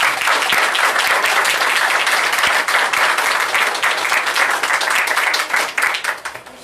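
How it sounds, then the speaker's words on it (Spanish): Sustained, dense applause from an audience at a commission session on disability affairs, steady and loud for the whole stretch before tapering slightly at the end. "Quiero que le brinden un fuerte, caluroso aplauso."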